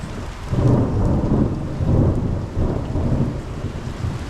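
An Arizona monsoon thunderstorm rolls in with deep rumbling thunder swelling and fading in repeated waves over a steady hiss of falling rain, loud and close, with no voices.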